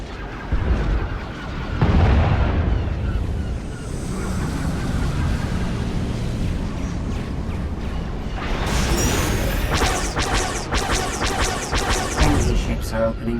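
Starship fire, explosions and heavy impacts crash over a rumbling backdrop in Star Wars: The Old Republic, with a dense cluster of sharp blasts near the end, like weapons fire in a battle.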